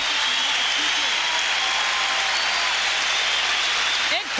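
A college volleyball crowd at an NCAA championship match between Pacific and Stanford gives a standing ovation, with dense, steady, loud applause filling the arena throughout.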